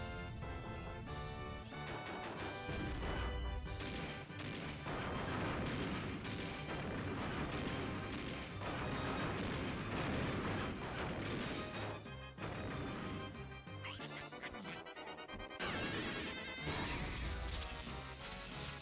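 Booming cannon and rocket blasts in the Donkey Kong 64 video game, a dense run of loud crashes and explosions over game music that continues throughout.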